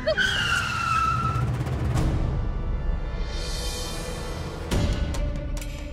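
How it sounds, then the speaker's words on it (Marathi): Car tires skid and squeal across the first seconds before a sharp impact of a collision, followed by a lingering metallic ring and scattered clanks, close and loud in a dramatic TV scene. "आता गाडी धडकली."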